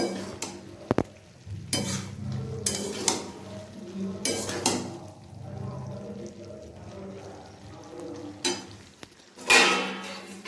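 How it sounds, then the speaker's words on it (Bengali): Ground coriander and cumin with chili powder are sautéed in a pan. Scraping and clanking strokes of a spoon come in bursts over a soft background sizzle, with short quiet gaps between stirs. "একটু ধনে গুঁড়ো, 1 চামচ জিরে গুঁড়ো। এটা দিয়ে আমি একটু কষবো"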